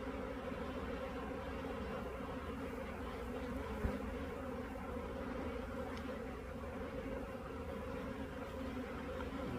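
Honeybees (Apis mellifera) buzz around open hive frames during beekeeping, a dense, steady drone heard close throughout, with one brief click midway.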